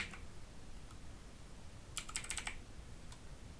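Brief bursts of typing on a computer keyboard, entering a word into Windows 11 setup, a quick cluster of light clicks amid quiet room hiss.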